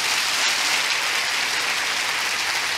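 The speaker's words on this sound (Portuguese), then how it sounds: "Vamos aplaudir a Jesus?" A church congregation applauding at a service produces a dense, even roar of many hands clapping, loud and sustained with no pauses or voices.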